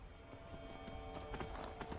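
Horse hooves clop rhythmically on the ground during riding in the video game Skyrim. The hoofbeats are faint and steady over a continuous background hum, with no talking.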